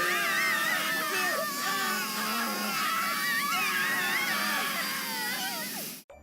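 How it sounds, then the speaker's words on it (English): Agonised screams from Zero Time Dilemma as Q Team is killed by hydrofluoric acid: several overlapping, wavering wails held loudly for about six seconds before cutting off abruptly. "When Q Team is killed by the hydrofluoric acid, you can actually hear 2 adult male screams."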